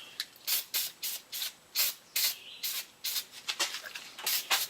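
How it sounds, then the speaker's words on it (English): Short, rhythmic bursts of aerosol lubricant sprayed onto a thread tap, about a dozen quick hisses in a row, close up with no talking. "So I'm going to spray down the tap."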